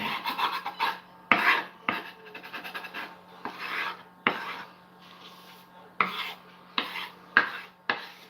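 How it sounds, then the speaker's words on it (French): A knife blade rasps and scrapes salmon skin and leftover scales off a cutting board in a kitchen, in repeated short strokes with sharp clicks as the blade strikes the board, close and fairly loud with no talk. "On va gratter un peu la peau et les écailles qui sont restées collées sur la planche."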